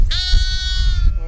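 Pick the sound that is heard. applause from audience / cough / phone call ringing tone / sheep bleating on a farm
sheep bleating on a farm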